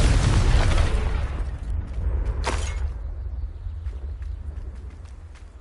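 A Confringo blasting curse detonates in Hogwarts Legacy, a loud, heavy burst with deep low rumble at the start, then a second sharper crack, trailing off into scattered debris clatter and fading reverberation.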